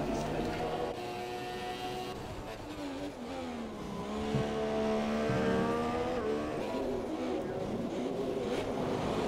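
Mercedes race car, number 6, in a racing video game at a Mexico circuit, engine revving and rising in pitch through gear changes as it accelerates, steady and moderately loud under commentary voices.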